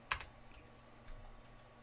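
Keys tapped on a computer keyboard, a short quick burst of a few clicks near the start followed by faint scattered taps in a quiet room.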